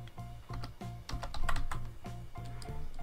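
Keys clicking in a quick, steady run on a computer keyboard as a word is typed, close and fairly soft, with no talk.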